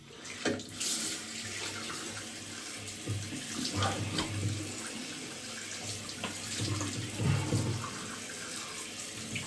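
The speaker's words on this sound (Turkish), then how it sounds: "şimdi yine yüzümü yıkıyorum" Tap water runs steadily into a bathroom sink as a face is washed after shaving, a continuous close splashing with small bursts and surges throughout.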